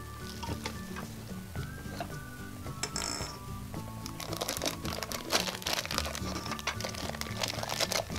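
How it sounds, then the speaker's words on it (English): Crinkling plastic wrapper being peeled off a gumball package for a yellow gumball machine, a steady close crackle with scattered crunchy bursts under light background music. "Peel the wrapper again."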